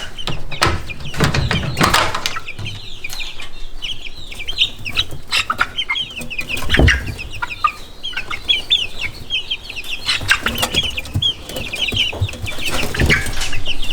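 Tame young chickens, including Ancona bantams, cluck and chirp close by in a busy overlapping stream of soft calls and peeps, with occasional rustling and louder bursts.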